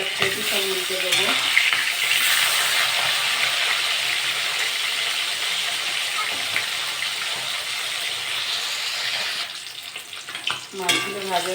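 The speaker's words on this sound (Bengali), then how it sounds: "মাছটা ভাজা হয়ে গেছে, এক কেজি সব উল্টে দেবো।" Silver pomfret fish frying in hot mustard oil, a loud continuous sizzle and crackle with steady spattering throughout, faint stirring clatter near the start and end, no voices.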